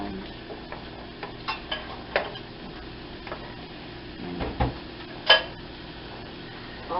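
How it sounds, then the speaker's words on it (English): A spatula scrapes and taps against a frying pan while mushrooms are moved around, giving soft irregular clicks and knocks with a few louder metallic hits over a faint background hiss. "I'm using the spatula, so I'm just moving them around."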